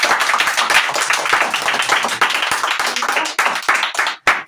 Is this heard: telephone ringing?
no